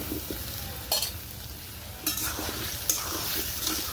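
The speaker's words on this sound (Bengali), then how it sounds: "আমি নেড়ে চেড়ে আলুগুলা কষাই দিচ্ছি" Potatoes fried and stirred in a pan with chicken for a lightly spiced Bengali chicken curry: a soft sizzle under several scraping, clattering stirs of a spatula against the pot.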